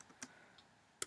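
A few quiet, sparse keystrokes clicking on a computer keyboard, irregularly spaced, with a quick double tap at the end.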